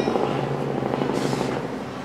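A helicopter in the video game Spore Hero gives a loud, steady whirring drone that swells briefly partway through, with no voices over it.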